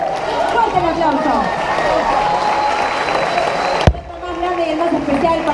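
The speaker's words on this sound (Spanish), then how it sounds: "¡Fuerte el aplauso!" A crowd at a DJ night party claps and cheers in a loud, continuous wash of applause, with a sharp thump partway through and voices shouting over it.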